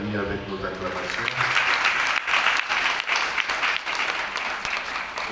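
A parish congregation in a French church applauds as an offering envelope is carried to the altar, a steady, full wash of clapping from many hands that begins over fading music and continues without a break.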